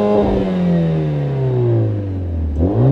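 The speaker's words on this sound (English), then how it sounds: "give me a hand with some exhaust revving" Mercedes-AMG A45 S four-cylinder exhaust revving up close, one long rev that winds down in pitch, then a sharp blip rising again near the end, loud and alone.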